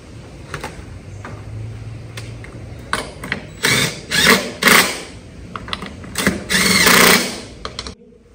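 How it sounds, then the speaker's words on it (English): Impact wrench snugging lug nuts onto a tractor wheel after a tire blowout, heard as several loud, short bursts of whirring hammering with brief pauses between them, close by and with no talk. "Then we'll take the impact wrench, snug it down, we'll lower it down."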